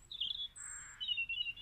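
Chirping bird calls, short bright phrases repeating near and clear at a moderate level, with no talk.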